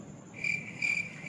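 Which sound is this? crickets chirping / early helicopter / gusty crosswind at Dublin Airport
crickets chirping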